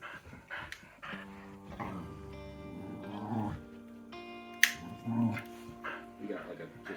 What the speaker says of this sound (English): Grandma Nova with a puppy.